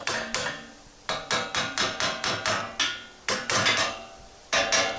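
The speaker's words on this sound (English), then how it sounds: "Need a little hammering action." A hammer strikes a bolt during a building job, about fourteen sharp metallic blows in irregular bursts, some quick in succession and others spaced by short pauses, close and clear with no talking.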